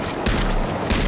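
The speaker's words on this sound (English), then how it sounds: "That first shot's gotta kill him." Gunfire in the video game H1Z1 comes as two sharp, loud booming shots close together within a second, with no talking over them.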